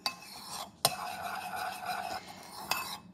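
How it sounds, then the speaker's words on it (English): A spoon stirs a splash of unsweetened nut milk into buckwheat oatmeal in a bowl, making a steady close scraping swirl broken by a few sharp clinks of metal on the dish. "you're going to take your unsweetened nut milk, just a little bit in there, and you're going to stir it."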